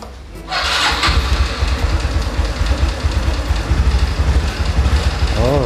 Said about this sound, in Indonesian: Motor pun senang hidup.